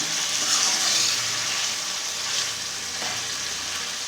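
Chicken karahi, Peshawari charsi style, fries and gets stirred in the pan, giving a loud, even sizzle that stays steady for the whole stretch with faint stirring scrapes.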